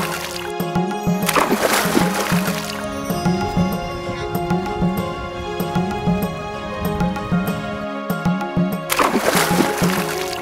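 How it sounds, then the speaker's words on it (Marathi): People wearing life jackets jump and splash into the sea on the Karnataka coast, with repeated loud watery splashes and churning water through the scene and a strong burst near the start and end. "पहिल्यांदा तर सर्वांनी लाईफ जॅकेट घालून मस्त समुद्रात उड्या मारल्या"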